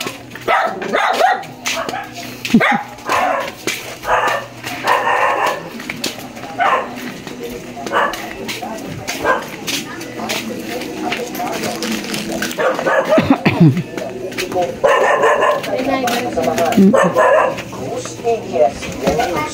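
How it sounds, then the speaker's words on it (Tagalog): A dog barks repeatedly in short bursts, fairly close, while people talk and ambient noise continues throughout. "Uy, may aso."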